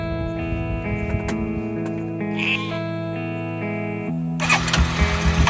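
Several sheep bleat on a rural property, with long wavering cries that overlap and repeat close by, heard alone, while an engine-like rumble rises near the end.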